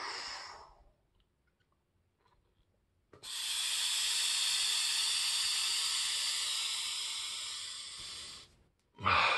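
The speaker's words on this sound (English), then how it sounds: "and take one long breath" One long, steady breath drawn through an Expand A Lung resistance breathing device, a close, airy hiss lasting several seconds, with a shorter breath sound before and after it.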